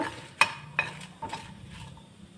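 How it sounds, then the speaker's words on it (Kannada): Masala and dried chillies dry-roasting in a pan, with a few scraping stirs and light clinks of a spatula over a faint crackle, fairly quiet and close. "ಇದನ್ನ ಚೆನ್ನಾಗಿ ಸ್ವಲ್ಪ ಕಪ್ಪುಗೆ ಹುರ್ಕೋಬೇಕು"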